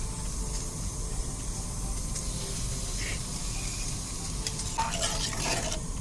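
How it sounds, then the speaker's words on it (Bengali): Spice paste is tipped into a hot pan and stirred, producing a loud, continuous sizzle and hiss with scraping stirs, and a brief surge of spitting toward the end. "মশলা যেটা বানিয়েছিলাম সেটা দিয়ে দিচ্ছি।"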